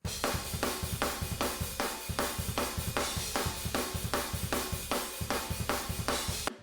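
A drum kit groove heard through room microphones, with a punchy, ambient snare hitting in a steady rhythm over kick and cymbals, loud and continuous.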